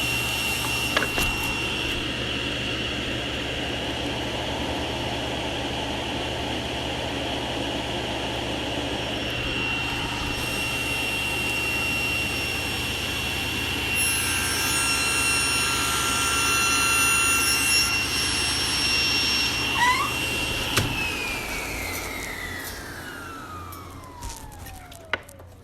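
A power saw cuts a mitre on the end of a wooden board, giving a steady, loud high-pitched whine that holds for about twenty seconds before the motor winds down with a falling pitch.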